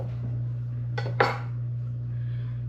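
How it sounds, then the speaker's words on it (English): A jalapeno popper stuffed with Cajun shrimp is lifted from a pan and cut in half, giving a brief metallic scrape and clink of utensil against pan over a steady low hum. "I'm just gonna grab one out of the pan, cut this in half and take a look at it"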